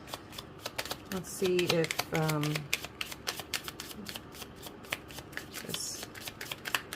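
A Celtic tarot deck is shuffled in quick riffles and flutters of cards close up, with a brief spoken phrase partway through.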